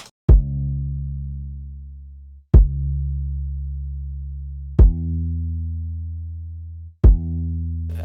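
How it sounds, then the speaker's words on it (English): Four deep, booming kick-and-bass hits, evenly spaced about two seconds apart, each sustaining a low tone that slowly fades before the next. "So once we get to the chorus, I bring in some kick and bass"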